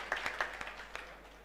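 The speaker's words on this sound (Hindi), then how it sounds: "एक बार जोरदार तालियां हाथ खड़े करके" A poetry-gathering audience at a kavi sammelan gives a scattered, faint round of claps, a handful of distinct sharp hand strikes early on that thin out and fade into quiet room tone.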